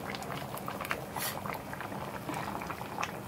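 An oxtail pot simmering on a stove, with a steady close bubbling and popping of liquid throughout and no speech.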